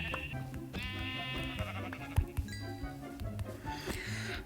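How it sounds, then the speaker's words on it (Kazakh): Sheep in the video game Minecraft bleat several times in short, wavering calls, with soft thuds and game sounds in between. "Міне қойлар бізге керек."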